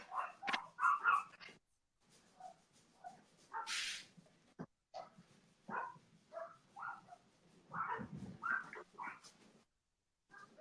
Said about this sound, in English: they're barking at the neighbor's dogs